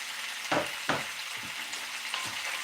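Onions in Mongolian beef sauce sizzling in a pan, with several distinct scraping stirs of a utensil cutting through the steady frying hiss, close and clear.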